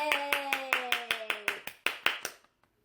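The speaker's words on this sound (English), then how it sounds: "Let's see if Jersey will do a clappy for you guys" Rapid, even clapping of about a dozen crisp claps close to the mic, a pet parrot's clapping trick, with a held tonal call under the first half before the claps fade to silence.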